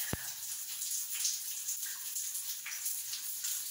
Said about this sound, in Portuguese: O chuveiro aqui de casa tá meio doido.